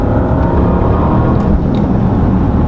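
A 2017 Porsche Panamera pulls hard in third gear from about 48 mph, its engine a loud, steady, continuous roar with wind and road noise throughout.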